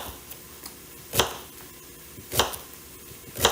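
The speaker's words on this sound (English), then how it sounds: "by the time we are done chopping the celery" Celery being chopped on a cutting board in a home kitchen while preparing an Instant Pot beef stew: three sharp, evenly spaced knife strikes, close and moderately loud, with quiet background between them.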